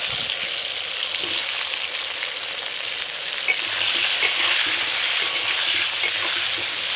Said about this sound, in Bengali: এবার আমি কেটে নিয়েছি এরকম আলুগুলোকে, এগুলো দিয়ে আমি ভেজে নেব